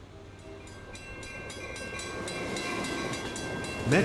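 An inbound Metra commuter train to Chicago arrives at a station, a steady rolling rumble with metallic squeal and clatter building gradually, ending in a louder burst; no talking.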